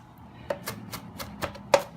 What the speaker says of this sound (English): When you're chopping fresh parsley, a lot of people are afraid of the stem.